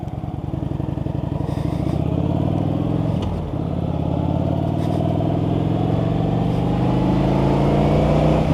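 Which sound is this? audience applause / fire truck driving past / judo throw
fire truck driving past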